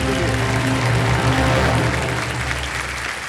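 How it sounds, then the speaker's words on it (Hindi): Studio audience applause on the Kaun Banega Crorepati season 15 game show: dense, steady clapping from a large crowd, loud and close, filling the whole stretch and easing only slightly toward the end. "एक बार जोरदार तालियां बजाएं।"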